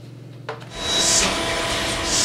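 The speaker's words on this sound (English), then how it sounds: "I'm just gonna vacuum out of the backside here. There's a lot of dust here." A vacuum cleaner sucks dust from the back of a neglected home air conditioner filter housing, starting with a bump and rising to a loud, steady close-up whoosh with a scraping, rubbing texture.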